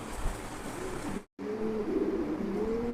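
A pair of black zebra-colored Maltese pigeons coo in soft low repeated calls close by, over steady background hum, with a brief dropout near the middle.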